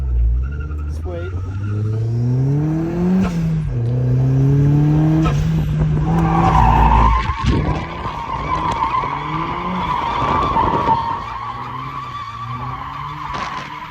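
Boosted Miata drifting and spinning out: its engine revs and rises in pitch, then long tire squeals and skidding build to a loud peak before the revs settle. Voices talk over part of it.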